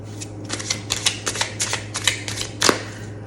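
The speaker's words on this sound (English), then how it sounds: "Good hard shuffle." Tarot cards given a hard shuffle, a quick run of crisp riffling bursts and slaps, close and fairly quiet, ending in one sharper snap, with no talking.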